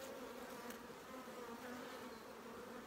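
Honeybees, drones among them, buzz densely over a swollen honeycomb frame, a steady, close, continuous drone with no voices.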